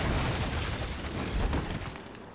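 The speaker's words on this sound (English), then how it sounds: "Death by explosion." A rumbling blast from the video game Nioh, a dense, loud burst of low-end noise that rolls on and slowly fades without any voice over it.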